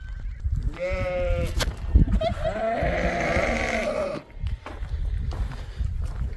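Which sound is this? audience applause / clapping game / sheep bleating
sheep bleating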